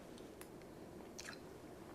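A quiet, close bite of creamy Cloud 9 potatoes made with sour cream, butter and garlic, heard as soft, moist chewing over low room hum, with no talking.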